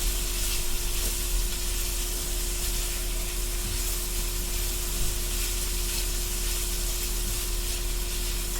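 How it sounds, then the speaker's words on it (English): Meat and potatoes sizzle in a skillet, a steady, close, continuous frying hiss with faint crackle throughout and no voices. "We just have our skillet with our meat, our potatoes. All that's cooking up."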